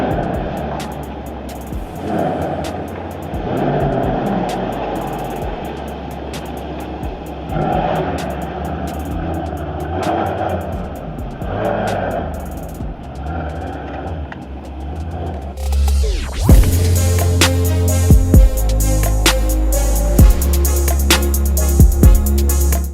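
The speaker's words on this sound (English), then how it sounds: "this is a twin turbocharged V8 engine" A Mercedes-AMG E63 S with a twin-turbocharged V8 runs at first as a muffled engine note under road noise, then a louder, sharper burst of engine roar and mechanical crackle takes over near the end.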